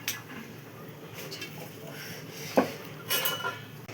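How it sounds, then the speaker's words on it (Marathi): Dried coconut being roasted in a pan, heard as a faint background hiss broken by a few light metal scrapes and clinks of a spoon against the pan. "सगळ्यात आधी खोबरं आपण भाजून घेऊ"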